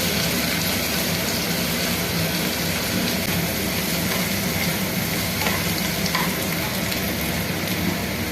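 Chopped onion frying in a pan for a Bengali potato curry, a steady loud sizzle with faint stirring scrapes throughout.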